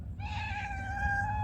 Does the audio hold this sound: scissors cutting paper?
no